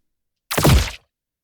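Layered sound-effect impact of a rock turning into electricity, combining a zappy high layer with harsh detail: a single loud, half-second broadband hit with several close transients, alone in silence.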